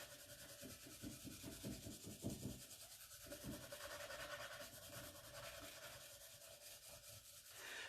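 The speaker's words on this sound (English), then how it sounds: "I'm still going to take my finishing pad and rub over the top of it." A finishing pad rubbing back and forth over a transfer on a wooden box, a quiet scratchy rasp in uneven repeated strokes, close and faint.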